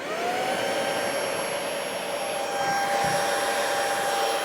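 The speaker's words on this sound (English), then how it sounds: "Now I'm going to turn the handheld on medium, setting 2 out of 4" A eufy E20 handheld vacuum runs on its medium setting, 2 of 4, giving a steady, close, continuous motor whine with a high tonal hum and airy rush that never changes for the whole stretch, with no voices.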